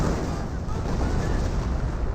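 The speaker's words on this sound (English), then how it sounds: "Oh, and something else got exploded by sector artillery." Sector artillery shells bursting in Company of Heroes, a dense, continuous rumble of explosions and low booms with no clear gaps, loud and close, with a commentator's voice partly mixed into the battle noise.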